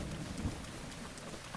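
Steady rain hiss with a low thunder rumble in The Legend of Zelda: Breath of the Wild, a dense, continuous wash of game-world weather heard alone.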